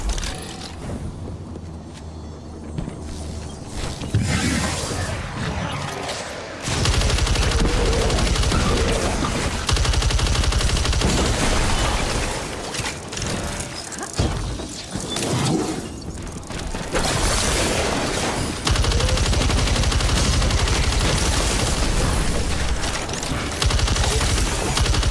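Video game gunfire mixed with mechanical clacking and ratcheting, loud bursts starting and stopping in blocks over a busy game soundscape, no talking.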